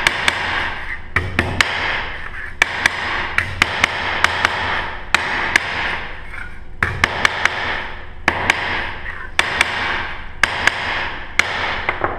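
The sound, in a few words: ball peen hammer flattening sheet metal cuts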